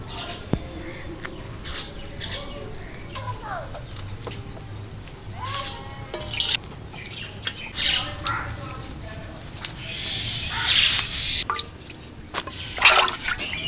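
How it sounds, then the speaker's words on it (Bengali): Cleaned tilapia is rinsed under running water, with steady splashing and dripping close by and birds chirping in the background. "পরিষ্কার করে ধুয়ে নিচ্ছি মাছটা"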